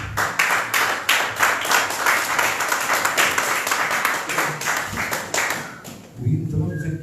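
A church congregation at a Sunday service claps in a lively rhythmic burst, dense and close, then the clapping breaks off near the end as other sounds take over.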